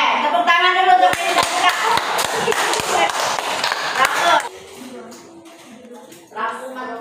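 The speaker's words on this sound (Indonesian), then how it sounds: "tepuk tangan dulu untuk ini" A teacher-training class claps for a presenting group, with a few seconds of sharp, scattered hand claps mixed with talking before the voices carry on alone.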